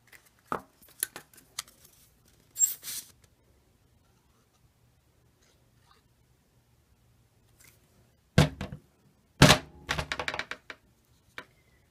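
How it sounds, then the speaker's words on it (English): A glue bottle falls over on a craft table while toilet-paper-roll owls are being made, giving sharp, close clattering knocks in a few separate bursts with quiet gaps between them. "Big loud crash. That was my glue falling over."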